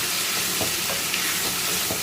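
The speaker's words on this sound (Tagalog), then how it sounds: "Eto na yung pusit, malinis na, nahiwa na, ilagay na natin, gisahin na natin." Cleaned, sliced giant squid sautéed in a wok, giving a close, dense and steady sizzle with a few soft stirring bumps underneath.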